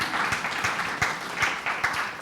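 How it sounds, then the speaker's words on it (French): Congregation at a French-language church service applauding, a short burst of clapping with distinct sharp claps standing out against a dense wash of hands, fairly close and steady throughout. "Donnez une acclamation à ton Dieu cet après-midi."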